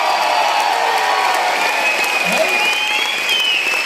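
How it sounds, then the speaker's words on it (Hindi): Loud applause from a large indoor audience at a direct-selling business event, steady dense clapping throughout with crowd noise and faint cheering mixed in. "जोरदार तालियां"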